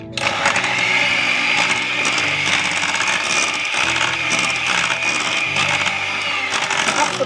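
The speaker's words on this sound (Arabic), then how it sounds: "وهبدأ اضيف بقى شويه للخليط وانا بخفقه اهو" Cake batter for a tiger cake being whisked briskly in a bowl, a loud, continuous rapid rattling and scraping churn that runs throughout without pause.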